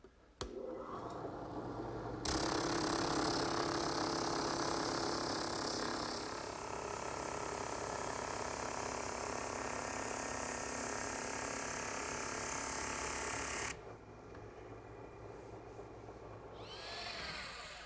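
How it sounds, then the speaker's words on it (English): A drum sander grinding a piece of wood guided along the drum for a rocking horse, a loud continuous whirring rasp that shifts in tone as the wood is pressed, then drops off to a quieter motor hum. "So with this piece of wood, I'll just guide my piece along the drum and sand it out"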